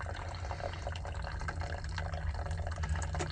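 Freshly boiled water poured from a kettle into a pour-over coffee filter holder at a campground, a continuous splashing, trickling stream with light dripping, close and steady throughout.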